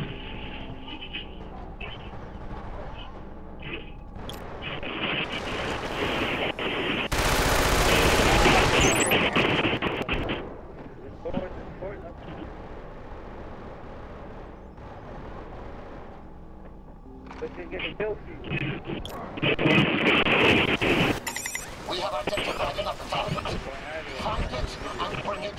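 Gunfire from the video game Killzone 2 with pistol and machine gun fire, heard as rapid bursts and loud sustained volleys with explosions, while someone talks over the action throughout.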